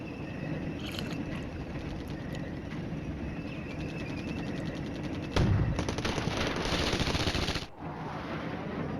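Gunfire in the wargame Flashpoint Campaigns: Red Storm, a sustained rattle of rapid automatic bursts over a rumbling battlefield bed, swelling into a louder, denser volley near the end before cutting off abruptly.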